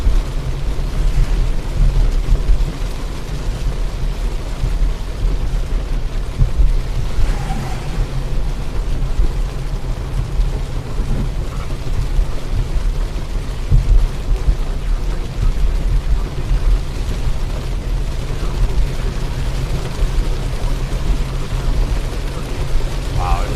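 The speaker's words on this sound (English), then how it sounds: "Wow, it's pouring rain now." Heavy rain pours steadily during a late-night thunderstorm, a dense continuous roar with deep low rumble, heard from inside a storm-chasing vehicle, with brief voices in the background.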